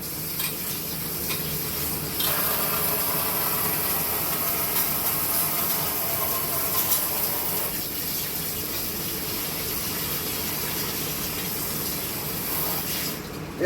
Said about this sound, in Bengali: দেখো আমি চিকেনগুলো ভালো করে ধুচ্ছি।